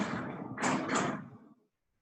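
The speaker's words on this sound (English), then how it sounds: "We're just going to close the fridge door." A heavy fridge door at a fire brigade station in snowy Mt Hotham swings and thuds shut, a broad rumbling scrape with a double surge before cutting to silence, close and without talk.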